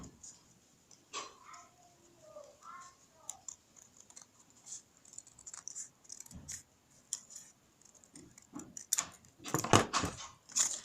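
Scissors snipping through paper to cut out a heart shape for a baby shoe pattern, a series of quiet, close cuts and rustles with soft handling noise and a louder burst near the end.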